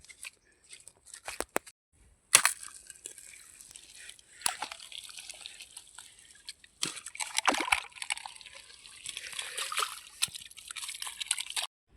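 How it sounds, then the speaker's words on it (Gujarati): Irrigation water runs into a field channel with intermittent sloshing and splashing, soft and close, separated by quiet gaps. "હવે પાણી આવી ગયું હવે આપણે વારવું પડશે"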